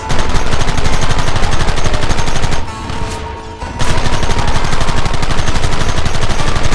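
Dense, loud gunfire from a Red Dead Redemption 2 shootout, rapid overlapping shots in a near-continuous barrage that drops out briefly in the middle before resuming just as hard.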